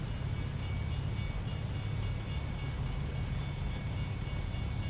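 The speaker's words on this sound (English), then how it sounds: "Another train." A train rumbles past at a constant distance, a steady low roar with faint rhythmic clatter and no voices.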